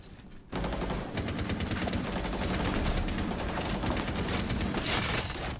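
Rapid, sustained automatic gunfire in Rainbow Six Siege, dense and continuous after a brief quiet start, with no talk over it.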